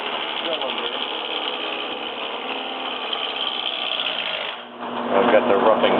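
A wood lathe spins a turret blank for an 18th-century tea table while a roughing gouge cuts it round, producing a steady buzzing, scraping drone that dips briefly and returns louder with harsher chatter.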